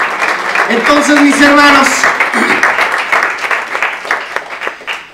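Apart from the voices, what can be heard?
church congregation applause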